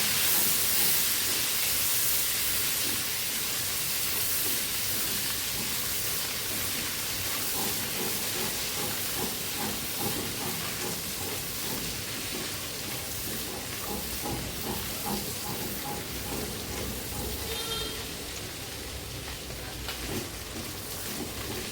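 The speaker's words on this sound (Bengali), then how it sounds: "তিনটা 4টা কাঁচা লঙ্কা সাথে একটু ভাজি করে নেব" Green chillies sizzle in hot oil in a pan, a steady dense hiss of frying with faint crackles, holding level throughout.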